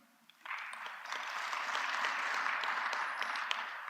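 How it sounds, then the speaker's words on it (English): An audience applauding youth-in-tourism honourees at a departmental planning session, a broad wash of many hands clapping that swells in after a quiet start and holds steadily, heard from some distance in a large room. "We really need to applaud them."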